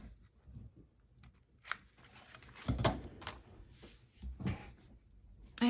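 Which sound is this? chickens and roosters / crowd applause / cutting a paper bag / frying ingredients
cutting a paper bag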